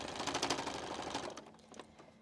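A sewing machine stitches quilt binding in rapid, rattling bursts, close and moderately loud, slowing and stopping toward the end with a few scattered clicks.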